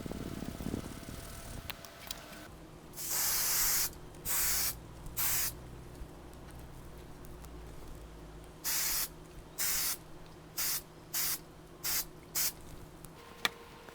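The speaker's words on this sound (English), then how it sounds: "Then you need to spray this spray adhesive on the back of the sandpaper" A can of spray adhesive hisses in a series of short bursts onto the back of sandpaper, a longer blast first, then several quick repeated sprays, close up against a steady low hum.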